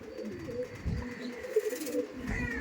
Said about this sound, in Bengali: এটা ছিল নর পায়রা দেখতে পাচ্ছেন